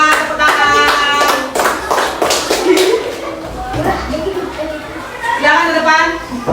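Classroom applause as students clap for group 4 during a teaching session: a burst of fairly close hand claps that overlaps with someone speaking and children's chatter.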